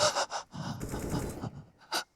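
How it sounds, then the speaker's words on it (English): Heavy, panicked breathing of a hostage in the Counter-Strike video game, a few short gasping breaths and pants in quick succession, moderately close and alone without talk. "I don't like the heavy breathing when you're trying to get the..."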